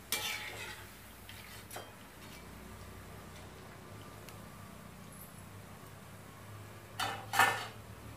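Frying sev being flipped in a pan: a faint low sizzle of oil runs underneath, broken by a few sharp utensil scrapes and clinks, clustered near the end.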